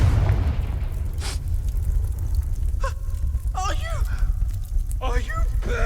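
A Confringo fire spell blast in the Hogwarts Legacy video game opens with a loud, deep boom and rumble, followed by gasping and crying voices over a lingering low roar.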